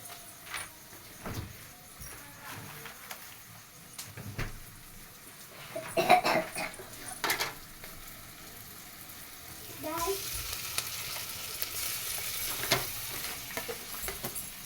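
Ginger frying in a pan for a Telugu tomato fish curry, a soft steady sizzle with scattered stirring scrapes and clinks, brightening into a fuller hiss partway through, with light household sounds around it.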